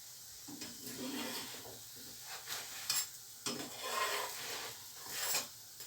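Layered katmer dough fries in a hot pan, giving a soft, steady sizzle broken by scraping and rubbing bursts as it is turned and pushed around, close and without talk.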